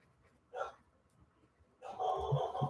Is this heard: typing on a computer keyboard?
no